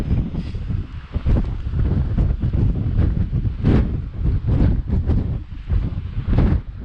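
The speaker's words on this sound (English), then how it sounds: "It's a little bit windy" Wind blasts across the microphone on top of Hedgehope Hill in the Cheviots, in uneven, rumbling gusts, loud and close, rising and falling over a few seconds.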